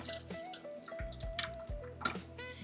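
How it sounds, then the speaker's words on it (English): Green enchilada sauce poured from a pot into a bowl, giving soft liquid drips and splashes with a few knocks of the container, close and fairly quiet, no talking. "I pour it into a bowl here because this is for my tortillas"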